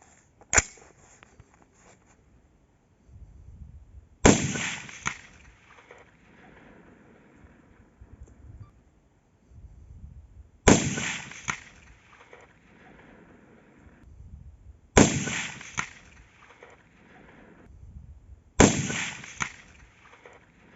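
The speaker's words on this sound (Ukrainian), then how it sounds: "Постріл." Sharp gunshots fired through three layers of glass crack out one at a time, four or five loud reports spaced several seconds apart, each followed by a brief echoing tail.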